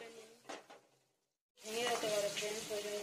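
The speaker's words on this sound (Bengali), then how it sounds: "ভাজাটা করে তুলবো। দেখুন ফ্রেন্ডস রেডি রেডি, ভাজার কাজটা রেডি" Food frying in a pan, a steady loud sizzle that starts abruptly after a short quiet pause and continues to the end, with a few brief stirring sounds and faint voice traces before the gap.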